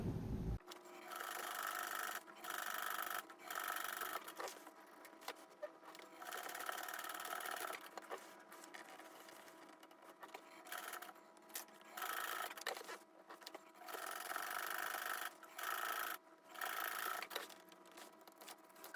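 A sewing machine runs in repeated bursts as it stitches the seam around a fabric popcorn bag, a steady whirring motor with short pauses between runs, close and fairly quiet with no talk.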